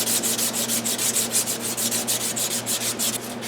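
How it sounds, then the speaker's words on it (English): Emery cloth rubs burrs off a snowmobile's rear idler-wheel axle in steady back-and-forth strokes, a rhythmic scratchy rasp repeating about every quarter second, close and moderately quiet. "take some an emery cloth and clean these burrs up so these bearings slide in and out easily enough"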